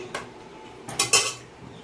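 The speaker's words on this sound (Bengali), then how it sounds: "সবজিটা মিশিয়ে দেবো ঠেলে দেখো এখানে ভাজিটা একদম মেশানো হয়ে গেছে" Pav bhaji vegetables being mixed and pushed around in a pan, with a few light metallic scrapes and clinks of a utensil against the pan, quiet and close, with no talking.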